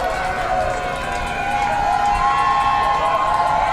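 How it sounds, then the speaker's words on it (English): A wrestling crowd at a Coastal Empire Wrestling show roars in a sustained, loud wall of cheering that swells toward the end, with an announcer's voice riding over it. "The crowd is going crazy for Michael Walker."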